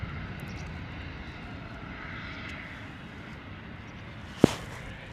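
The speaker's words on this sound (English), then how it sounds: "Beautiful departure there from the Wizz Air" A Wizz Air airliner departs, its jet engines a steady, distant broadband roar that holds level throughout, with a sharp brief click near the end.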